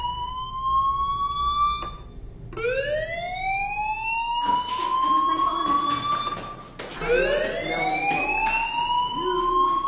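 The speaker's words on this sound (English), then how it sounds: "you hear that fire alarm, that means you should be outside" Fire alarm wailing in Life is Strange, a loud rising-and-falling electronic siren tone that sweeps up repeatedly in several cycles, with brief bursts of other noise between sweeps.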